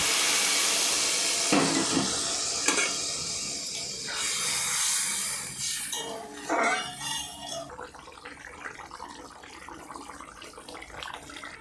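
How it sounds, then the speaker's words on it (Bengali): Water poured into a pan of fried egg and potato curry for a Bengali egg curry, hissing and splashing in several bursts over steady steam-like noise, fading to a softer simmer. "ডিম আলু সব কষে নিয়েছি ভালো করে, এবার জল দিয়ে দিচ্ছি।"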